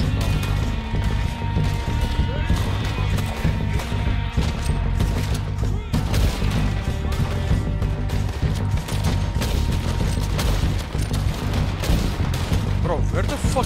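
Rapid gunfire in the Western video game Red Dead Redemption 2, dense bursts of shots and cracks packed closely across the whole stretch, loud and continuous with busy game sound beneath.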